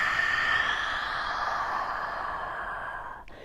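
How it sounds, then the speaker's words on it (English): An ujjayi breath is exhaled slowly in a yoga practice, a long, close, breathy hiss through a partly constricted throat that gradually fades over a few seconds, with no talking. "you can do this with your lips slightly sealed, practicing our victorious breath"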